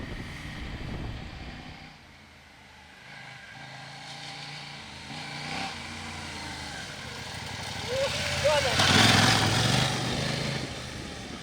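A 2020 KTM 790 Adventure R motorcycle rides a slippery forest trail, its engine droning and rising in revs toward the end, heard with some wind noise.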